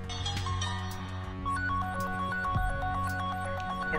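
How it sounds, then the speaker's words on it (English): A phone ringtone plays a bright electronic melody that repeats clearly and steadily, loud and close. "Your phone is ringing."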